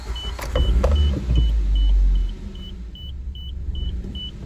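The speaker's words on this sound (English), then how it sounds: "let's give this car a crank to see how she's running." A 2007 Suzuki SX4, just reassembled after a timing chain replacement, cranks with a short loud rumble and catches into a steady idle while a regular electronic chime beeps throughout.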